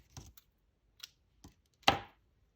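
Scissors snip through ecru crochet yarn while making a crocheted unicorn softie: a few faint small clicks, then one sharper, louder cut near the end in an otherwise quiet space.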